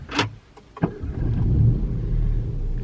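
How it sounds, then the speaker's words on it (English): A car with a push-button start-stop ignition fires up. A couple of short clicks and a thump are followed by the engine catching and settling into a steady, close idle rumble. "Let me turn the car on actually"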